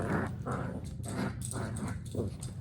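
A puppy tugs on a toy in play, making faint rhythmic scuffling, pulling and low growly noises that come in repeated bursts about every half second.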